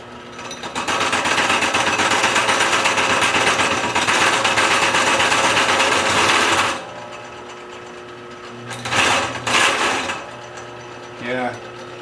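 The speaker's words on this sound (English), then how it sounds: "See if I can show you some of the drilling." A big drill bit bores into the center of a large wood-turning blank, loud and grinding for about six seconds, then stops with brief bursts of machine noise.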